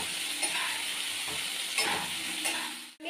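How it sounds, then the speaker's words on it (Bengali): Tomato and ginger frying in a pan, a close, moderate sizzle with light stirring scrapes and a brief dip near the end, no talking. "টমেটো, আদা। আমি এগুলোকে আগে একটু ভেজে নেব।"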